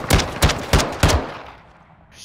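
Four sharp sniper rifle shots ring out in Modern Warfare II ranked Search and Destroy on Asilo, loud and evenly spaced with reverberant tails, then fading into a quiet lull.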